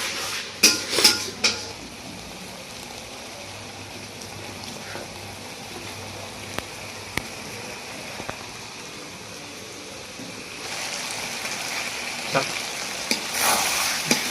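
Chicken masala fries and sizzles steadily in a pan, with a few louder metallic clinks of the spoon stirring early on and again near the end, close and continuous with no talking.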